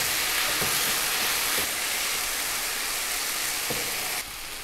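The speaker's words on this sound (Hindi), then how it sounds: "चार से 5 मिनट हमने मीडियम फ्लेम पर वेजिटेबल्स को भून लिया है" Chicken and vegetables with chili and soy sauce sautéing over a medium flame in a pan, a steady broadband sizzle with a few faint stir or scrape ticks, close and continuous with no voices.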